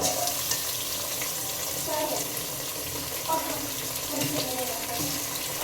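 Mutton pieces poured into a pan for a slow-cooked curry set off a steady, dense sizzle that runs loud and unbroken throughout, with faint clinks and murmuring voices beneath.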